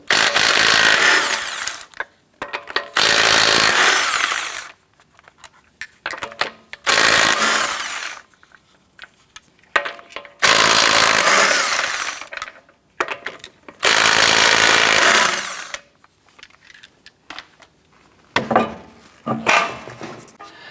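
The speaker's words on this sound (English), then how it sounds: "Using a 19mm socket, remove your right front wheel." A power tool fitted with a 19mm socket drives off the front wheel nuts of a 2004-2008 Acura, loud bursts of whirring and rattling a few seconds each, separated by quiet pauses and small clicks.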